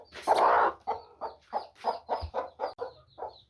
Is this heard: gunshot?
no